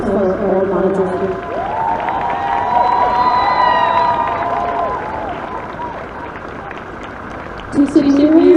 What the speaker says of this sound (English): So a round of applause for all managers.